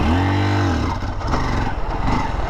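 A 2024 Honda XR150L motorcycle engine revs in second gear, a loud close rising whine that drops back into a rough, rumbling mid-range drone.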